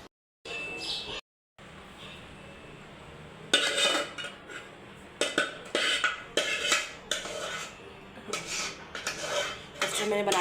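A spoon clinks and scrapes against a dish while stirring custard mixed with tinned fruit such as pineapple. The sharp, irregular metallic knocks come close together after an early pause, with faint background talk.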